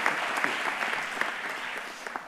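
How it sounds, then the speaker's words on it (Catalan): An audience at a local communication awards ceremony claps for the presented projects, a continuous patter of many hands at a fairly even level with scattered sharper claps standing out. "demano un aplaudiment per tots els projectes que s'han presentat"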